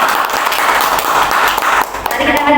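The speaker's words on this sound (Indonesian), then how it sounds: "Beri tepuk tangan buat Bapak Ibu" A room of schoolteachers at a training workshop claps together in a loud, dense, continuous round of applause that dips briefly near the end, where a voice comes in.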